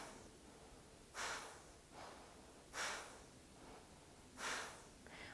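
Kapalabhati pranayama, the skull shining breath: three forceful, evenly spaced nasal exhalations, close and breathy, each a short rushing snort with quiet pauses between.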